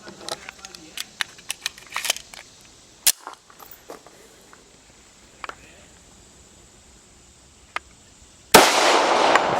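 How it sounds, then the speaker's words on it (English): A 1911 .45 Commander pistol fitted with a Schuemann Hycom barrel fires at an outdoor range, giving a few sharp, separate cracks at irregular intervals amid quieter handling clicks, and a burst of loud noise comes at the end. "Shoot a couple bullets."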